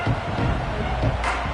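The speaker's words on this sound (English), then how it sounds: "this crowd is buzzing after that last score" Football stadium crowd buzzing after a Longhorns score, a steady dense roar of many voices with a brief louder swell near the end.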